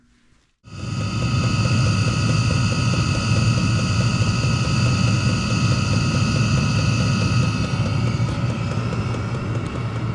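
A Chinese diesel heater burning used oil fires up with a sudden onset, then settles into a loud, steady, close roar with a constant whining hum riding on top, holding unbroken for about ten seconds.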